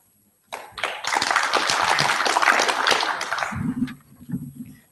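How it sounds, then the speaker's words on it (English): Audience at a panel discussion on peace in Israel and Palestine breaks into steady applause, a dense wash of many hands clapping that starts abruptly, holds for about three seconds, then thins and fades as a low voice speaks over the tail. "let's give both of them a round of applause"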